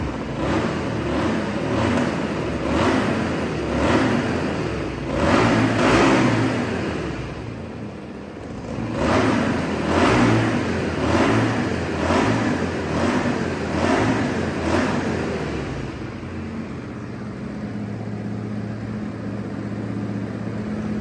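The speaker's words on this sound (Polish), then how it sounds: "No i dźwięk silnika." A Honda XL 125 Varadero 2010 motorcycle engine revs repeatedly in surges close by, rising and falling several times before settling into a steady idle.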